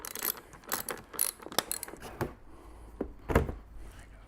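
Close, crisp ratchet clicks come in short irregular bursts as inside bolts are removed on a 2008 Ultra Classic motorcycle, with brief pauses between strokes and no talking.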